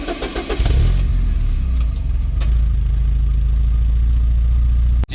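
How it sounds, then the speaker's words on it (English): A car engine cranks and fires up near the exhaust, catching after a brief stutter and settling into a loud, steady idle rumble before cutting off abruptly. "I will give you guys a little cold start from back in the exhaust where you should be."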